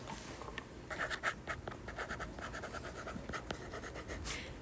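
Marker writing on a board to label a circle's diameter during a geometry lesson on inscribed angles: a run of short, close scratchy strokes and squeaks with brief pauses between them, and no talking.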